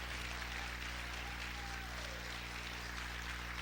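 A church congregation claps together in a dense, steady wash of applause that stays even and moderately loud throughout, with a low hum of the hall beneath it.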